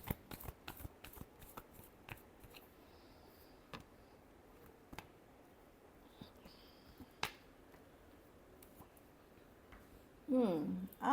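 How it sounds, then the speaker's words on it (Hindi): Tarot cards being shuffled for a Gemini love reading: quick, sharp, crisp snaps and flicks, close and fairly quiet, with a louder burst of riffling at the end and no voice over it. "Last shuffle."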